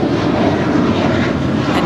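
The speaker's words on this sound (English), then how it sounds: "It's an 8-year-old A321." An eight-year-old American Airlines Airbus A321 jet at LAX roars loudly and steadily up close, a dense engine rumble filling the brief moment with no talking.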